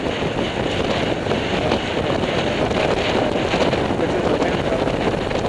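Strong wind blowing steadily while out sailing on a boat, a constant loud rushing roar buffeting the microphone for the whole stretch.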